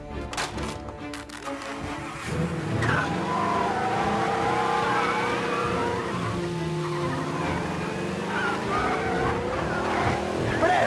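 In Mafia Definitive Edition, a period car's engine roars under hard acceleration while tires skid, loud and sustained after a short stretch of game dialogue at the start.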